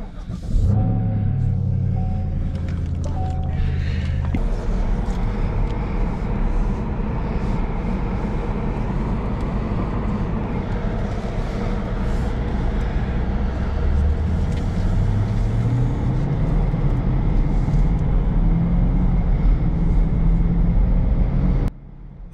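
Inside a 2020 Chevrolet Camaro LT1 on a test drive, a steady low engine drone and road rumble fill the cabin, with the engine note rising gradually toward the end.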